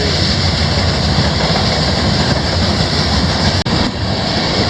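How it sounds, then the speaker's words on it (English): A long train rolls past on trestles over Lake Pontchartrain with a loud, steady rumble and rattle that fills the whole stretch, interrupted only by a brief dropout near the end. "Long train, folks."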